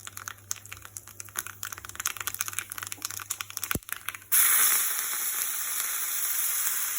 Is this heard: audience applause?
no